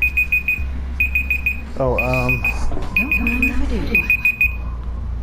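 Repeated electronic beeping from a timer alarm in quick clustered bursts, loud and close, while someone talks and exclaims over it.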